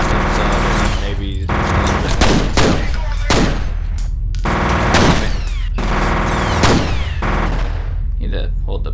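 Shotgun blasts in the shooter game F.E.A.R., loud repeated booming shots at irregular intervals with gaps between, close and dominant, mixed with game effects and a player talking.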